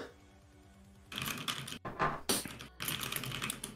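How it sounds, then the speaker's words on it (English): Rapid clatter of computer keyboard keys during an online drawing-and-guessing game, fairly close and steady in bursts with brief pauses, after a quiet stretch of faint background music. "what are you typing?"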